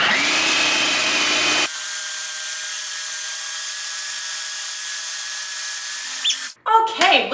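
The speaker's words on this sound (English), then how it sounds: "we're gonna blend it right back up again" Smoothie bowl mixture blending in a blender, a loud steady whir that drops to a lower steady hum partway through, then cuts out into clunks and short bursts near the end.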